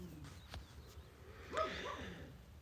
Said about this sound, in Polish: O, piesek szczeka